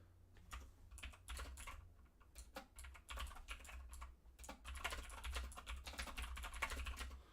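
Fast, steady clacking of a computer keyboard being typed on, dense bursts of keystrokes close by over a low background hum, with no talking.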